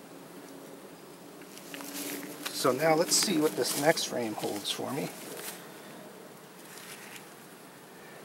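Honey bees humming in an opened, recently split hive, a low steady buzz close by under someone speaking quietly in the middle.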